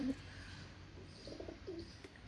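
Pigeons coo softly a few times in a quiet outdoor setting, the low calls faint and spaced out against light background noise.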